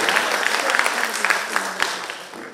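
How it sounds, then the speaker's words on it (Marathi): An audience at a local Purandar event claps in steady, dense applause, with a voice speaking over it. "पुन्हा एकदा जोरदार टाळ्या वाजवा बिंग पुरंदरसाठी"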